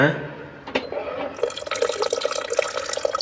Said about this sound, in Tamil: இப்போ கொஞ்சமாக தண்ணி சேர்த்திக்கலாங்க